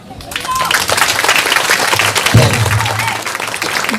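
Audience members at an Indonesian stand-up comedy show clap together in a dense burst of applause, loud and fairly close, with a voice speaking over it partway through.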